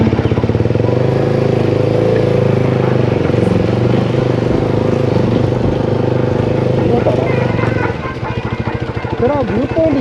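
A KTM motorcycle engine drones loud and close as the bike climbs a slope, holding a steady rumbling note before easing off near the end, while a voice talks over it.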